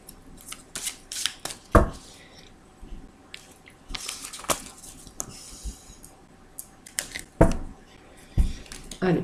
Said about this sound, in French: je vais rebattre les cartes, pour bien les mélanger.